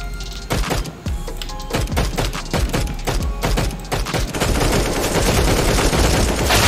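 Burst gunfire from a Counter-Strike: Global Offensive one-on-one match: loud rapid volleys of rifle shots in quick short bursts, followed by a denser sustained spray of fire, with no talk over it.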